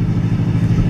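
A 2015 Ford Mustang GT V8 fitted with a Stainless Works exhaust, heard from inside during a ride on an uneven road, gives a steady, loud, low burbling rumble with a pulsing throb.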